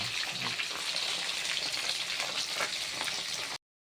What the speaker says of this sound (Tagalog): piprito muna natin itong tilapia